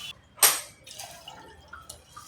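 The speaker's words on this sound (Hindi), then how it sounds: "और यहाँ पे हम ऐड करेंगे 2 ग्लास पानी।" Two glasses of water poured into a pot of quick pulao with green chili paste and curry leaves, a sharp splash followed by softer trickling and faint clinks in a quiet kitchen.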